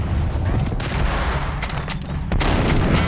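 Ingram submachine gun fire in the 2012 video game Max Payne, coming in dense automatic bursts through the whole stretch, loud and close, with a brief lull and a sharper volley near the end.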